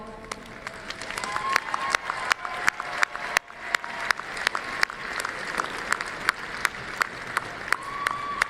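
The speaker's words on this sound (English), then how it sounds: "Graduates, would you please rise and give your loved ones a big round of applause?" Graduates at a fall university commencement applaud their families, a broad wash of crowd clapping punctuated by sharp, loud individual claps close by, with faint voices mixed in.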